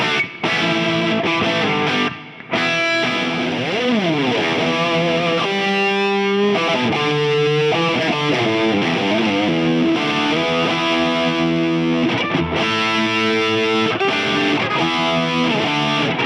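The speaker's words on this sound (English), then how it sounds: "This is what it sounds like when you run a green style overdrive into the front end." A TC Jims800 high-gain amp driven by a green-style overdrive pedal plays a heavily distorted electric guitar riff, mixing chugging chords and sustained bends, loud and continuous, with a brief gap early on and no voices.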